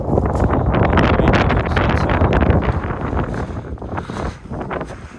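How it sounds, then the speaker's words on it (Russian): Strong wind buffets the microphone in loud, continuous roaring gusts, easing slightly near the end. "сейчас очень сильный ветер"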